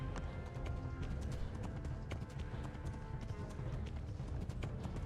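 A horse gallops in the medieval video game Kingdom Come: Deliverance, with rapid, even hoofbeats drumming continuously over a dense outdoor game soundscape and no talk.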